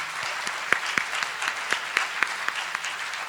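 Audience applause at a school district celebration of excellence: a steady, dense crowd clapping with a few sharper individual claps standing out, continuous and fairly loud throughout, with no talking over it.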